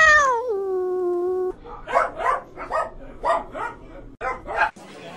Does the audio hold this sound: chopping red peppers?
no